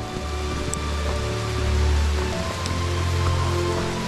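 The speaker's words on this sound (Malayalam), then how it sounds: "മഴ ശക്തി കൂടുന്നുണ്ട്." Heavy rain falls in the forest around Agumbe, a constant hiss of drops hitting leaves and the ground. A low, steady rumble sits underneath it, and no one speaks.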